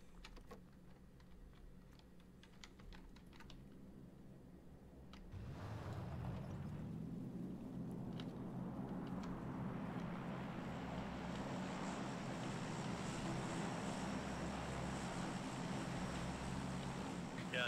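Airplane engine droning in a video game, a steady broadband roar that swells in after a few seconds and holds loud and continuous, with faint clicks early on.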